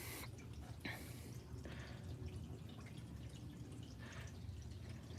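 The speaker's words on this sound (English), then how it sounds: "I can hear my water coming down through this pipe." Faint, irregular drips of water trickling down inside a pipe, quiet and hollow against a low background hum.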